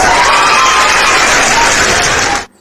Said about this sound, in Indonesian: Tepuk tangan untuk Masak.